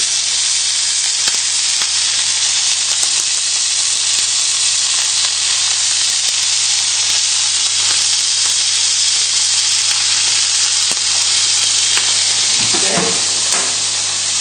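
Lamb steaks sizzle steadily in a hot frying pan, a continuous loud crackling hiss with no talk, with a brief stir or shift of the pan near the end.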